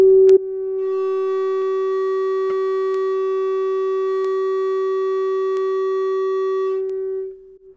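A loud, steady sine tone comes from a large loudspeaker powered by a big amplifier, driving an acoustic rocket in a demonstration of Dvorak's 1878 acoustic repulsion apparatus; the pure hum holds unbroken for about seven seconds, with a few faint clicks, then cuts off.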